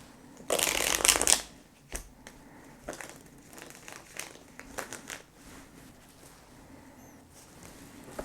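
Tarot cards shuffled close by in one loud, dense riffle burst, then fainter scattered card handling and soft shuffling follow.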